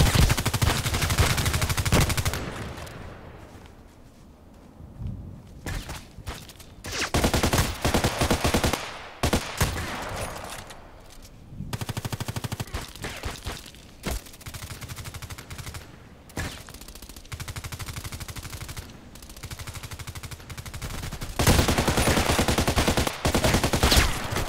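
Sniper shots and bursts of automatic gunfire in the online shooter Contract Wars on the Old Sawmill map, loud and repeated in clusters with short pauses between volleys.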